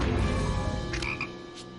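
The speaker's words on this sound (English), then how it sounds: "studying the migratorial patterns of speckled tree frogs" A speckled tree frog croaks in an animated show, a brief raspy call over a dense background, near and moderately loud.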